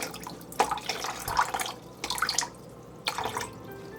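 Water from a tap runs into a sugar and molasses mixture in bursts, three separate splashing pours with quieter gaps between, close and fairly loud.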